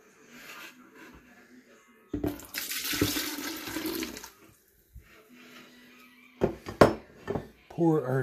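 Sugar mixture poured into a pitcher of freshly squeezed lemonade with grapefruit juice, a bright liquid splash and trickle running about two seconds, followed by quieter kitchen clinks and knocks.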